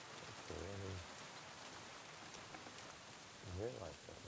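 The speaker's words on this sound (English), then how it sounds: "It's raining" Steady rain falling in a medieval Bohemian game world, a constant soft hiss throughout, with a voice speaking briefly over it twice.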